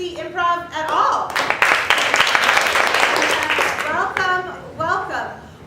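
A crowd at an improv show breaks into a few seconds of dense clapping and cheering, framed by a host's speaking voice before and after.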